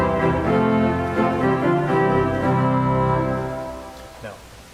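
Swell division of a pipe organ sounding with every stop drawn except the strings, a full sustained chord that shifts through several held harmonies and then releases near the end, loud and close, with no talking.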